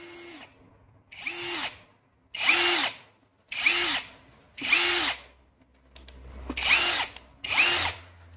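A cordless 21 V power tool with a 3 Ah, 60 Wh battery runs in seven loud, close bursts of about a second each, with short pauses between them and no talk.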